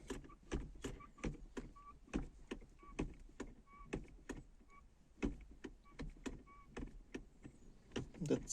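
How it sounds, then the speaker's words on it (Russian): A squeaking manual gearshift lever in a Lada Vesta NG with 60,000 km on it gives a rapid series of sharp, close creaks and clicks at an uneven rhythm, faint against a quiet cabin. "Lada Vesta NG, кросс 60 тысяч. Начал скрипеть рычаг."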